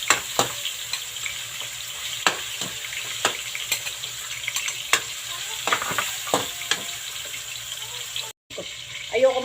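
Ground pork or beef hitting a hot pan for a home-cooked Filipino lunch alongside two pieces of milkfish, frying with a steady close sizzle broken by repeated scraping stirs and a brief pause near the end.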